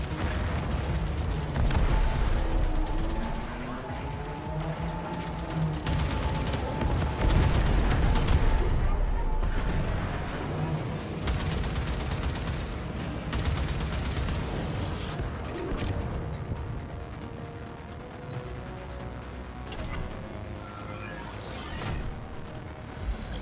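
Spaceship weapons fire during Railjack combat in the Warframe video game, a dense barrage of booming blasts and explosive bursts repeating over a loud rumbling bed, fading slightly toward the end.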